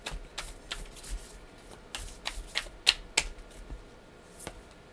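Oracle cards being shuffled by hand, a run of soft papery riffles and sharp card snaps spaced irregularly, close and fairly quiet with no talking.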